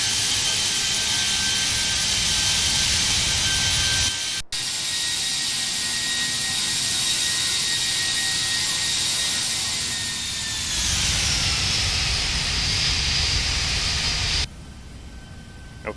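Simulated Airbus A320 jet engines whine and roar steadily on final approach along the glide slope, heard from outside the aircraft in a flight simulator, with the tone shifting partway through and then dropping to a quieter hum.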